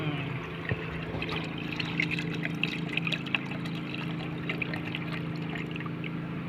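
Chlorella culture poured into fresh fertilizer water, a steady close trickle and splash of liquid running for several seconds over a constant low background hum.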